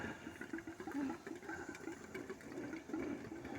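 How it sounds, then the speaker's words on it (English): Water gurgling as an electric narrowboat takes on water, a faint, low burbling and trickling with a soft mechanical whir underneath, steady and close, with no voices. "Gilbert, And we're taking on water. That's all that gurgling noise."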